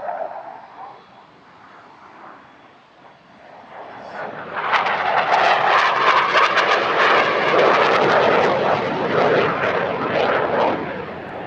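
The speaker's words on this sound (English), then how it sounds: "Here it comes again, rolling into an outside turn at negative 3G." Fighter jet performing an airshow display at Paris-Villaroche, its roar building from a distant rumble to a loud, sustained near pass with crackling engine noise.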